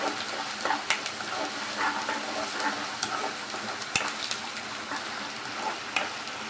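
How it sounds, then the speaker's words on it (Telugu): Ginger-garlic paste fries with onions in a pan for a colocasia tamarind curry, a steady sizzle broken by sharp scraping stirs and taps of a spoon at irregular intervals, close and without talk. "ఇప్పుడు దీంట్లో 1/2 స్పూన్ అల్లం వెల్లుల్లి పేస్ట్ వేసుకొని ఫ్రై చేసుకోవాలి"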